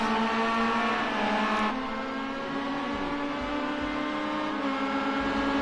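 Race cars on the Nürburgring Müllenbach circuit in a racing game scream along a straight, a dense high engine whine holding steady with a slight pitch dip partway through.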